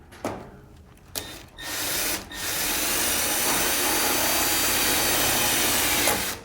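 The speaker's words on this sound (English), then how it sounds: "Now I'm going to switch to a high speed setting so I can drill with my screw." A power drill on a high speed setting drives a screw into thin metal while installing a 6 or 8 inch Draft Helper, a loud steady whine that starts after brief bursts and holds close up for several seconds.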